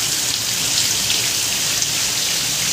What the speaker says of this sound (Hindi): अभी हो रही है बहुत तेज बारिश